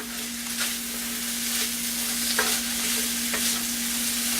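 Pasta sauce with garlic cooking in olive oil in a pan, a soft steady sizzle with occasional stirring scrapes under a constant low hum, no voices.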